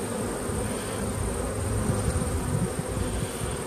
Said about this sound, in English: There's a lot of bees in the hive